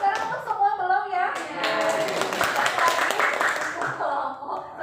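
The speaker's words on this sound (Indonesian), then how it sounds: "Tepuk tangan dong." A classroom of students applauds a presenting student group during a teaching-practice lesson. The dense clapping swells after a few seconds of talk and continues under voices.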